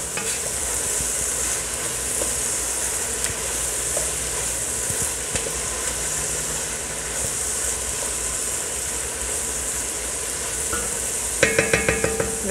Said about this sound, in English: Then stir.